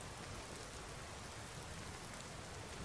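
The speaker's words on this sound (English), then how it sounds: "Alright, it's still raining." Rain falling in Skyrim SE, a faint, steady, even hiss of dense drops with no pauses and no voices.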